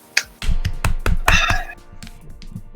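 A few scattered, uneven claps from a small group, close by, fading into sparse taps.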